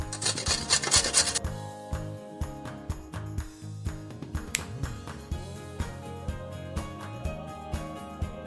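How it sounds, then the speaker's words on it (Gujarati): Carrots rubbed against a grater for carrot halwa, a steady rhythmic rasping repeated many times at close range, with no talking. "હવે આપણે ગાજરને મધ્યમ આકારમાં છીણી લેવાનું છે।"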